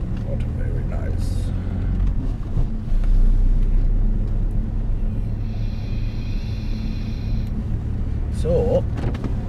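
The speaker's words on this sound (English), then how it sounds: "Should we have a drive through Middlesbrough Town Centre?" A vehicle drives through Middlesbrough town centre, giving a continuous close engine and road rumble heard from inside the cab, with a brief higher whir partway through.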